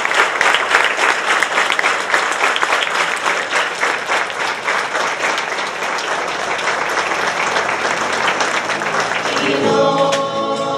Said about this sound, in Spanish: la familia Santiago Vázquez la recibieron con aplausos y confeti de color blanco que le arrojaron en su paso por el sagrario.